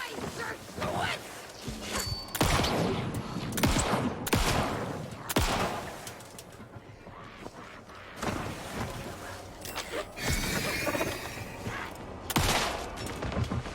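Repeated bursts of gunfire in the Alan Wake 2 horror game, separated by short pauses, moderately loud, with scattered voices and movement noises between the volleys.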